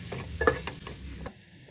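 A spoon scrapes and clinks around a pan while spices fry with a soft sizzle, several quick stirring strokes up close.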